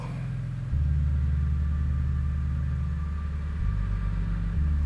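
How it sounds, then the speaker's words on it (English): Jeep tires rumble and crunch over rock inside a mine shaft at the Reward Mine near Lone Pine, California, a deep, loud, continuous low roar that swells and shifts as the vehicle rolls, with the engine humming underneath. "That sound of the tires in here, I was like, oh, is that an avalanche?"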